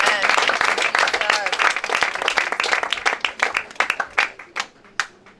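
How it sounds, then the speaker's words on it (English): A congregation applauds with dense, sustained clapping that thins into scattered individual claps toward the end. "Let's clap for Jesus."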